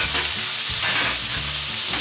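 Steady, crackling sizzle of food frying in hot oil, a continuous bright hiss with soft pops throughout and no voices.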